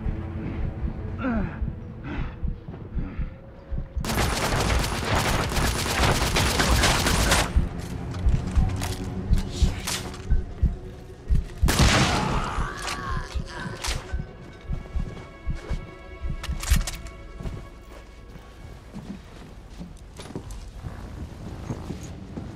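Heavy gunfire and explosive blasts erupt in a battle in the video game The Order: 1886, loud bursts giving way to scattered shots and rumbling debris.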